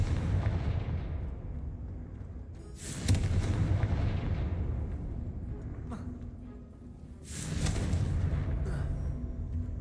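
Two heavy booms from Confringo blasting spells in a video game, each a sharp explosive burst that rumbles and fades over several seconds, with a voice speaking in between.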